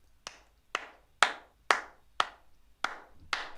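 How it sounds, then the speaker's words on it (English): Self-recorded hand claps for a music production track, heard as single sharp claps spaced about half a second apart in an even rhythm, close and fairly quiet with brief roomy tails. "and my own claps."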